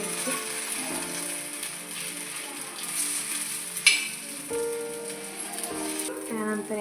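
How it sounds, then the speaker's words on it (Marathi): Murmura (puffed rice) paratha cooking in oil on a pan, a steady close sizzle and crackle running throughout, with a faint musical background underneath and a brief sharp clink near the middle. "हा पूर्ण एका साईडने आपल्याला चांगला शिजू द्यायचा आहे."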